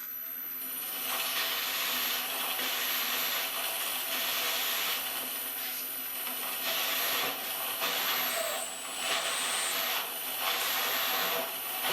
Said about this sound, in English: this is what I got to go through when I'm drilling all these holes here